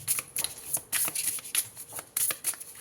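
Tarot cards being shuffled by hand, a series of quick riffling bursts with brief pauses between them, close and crisp with no voices.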